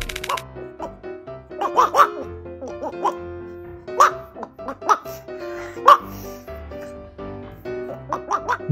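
Dog giving short, yelping barks and odd giggle-like vocal bursts in a quiet room, several sharp calls spaced irregularly, close to the listener.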